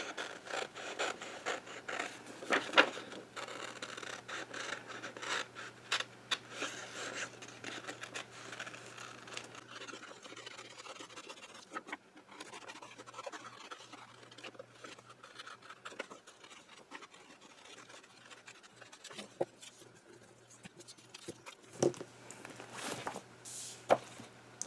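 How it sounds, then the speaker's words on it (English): Scissors snipping and paper rustling as a paper figure of a woman is cut out for a fish-themed two-page spread, a steady run of quiet close cuts and crinkles with no talk. "I'm going to cut her out."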